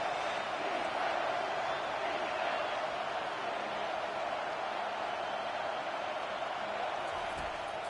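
A football stadium crowd roars in a steady, dense wash of cheering on a third down, loud and continuous throughout, with speech mixed in.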